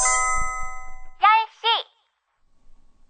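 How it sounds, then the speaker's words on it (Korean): A mobile phone chime marks the hour with a bright, ringing electronic tone that sustains and fades, followed by two short melodic swooping notes, then near silence. "휴대폰이 10시를 알렸다."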